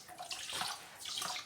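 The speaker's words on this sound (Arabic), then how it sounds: "بالي غنزيد عليه الخل" Vinegar poured over raw chicken pieces that have been salted, squeezed with lemon and covered in water, a steady splashing liquid stream lasting about a second and a half, fairly close.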